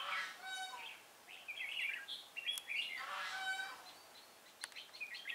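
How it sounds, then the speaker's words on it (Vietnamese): Two red-whiskered bulbuls sing together close by at a bird-trapping spot near Chùa Hương, Vietnam, trading bright, chirpy warbled phrases that overlap in quick bursts. "Ô, hai con cùng hót này."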